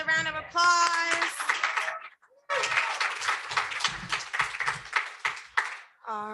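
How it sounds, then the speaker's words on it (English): Audience applause at a 2022 student government election debate: a burst of clapping fills the room for several seconds after a voice speaks, then fades out. "another round of applause."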